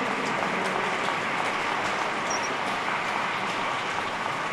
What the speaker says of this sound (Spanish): Vamos a realizar este fuerte voto de aplausos